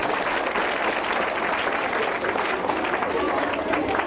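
At a children's quiz talk show, an audience gives sustained, even applause for a correct answer, continuous clapping from a crowd with faint voices mixed in underneath.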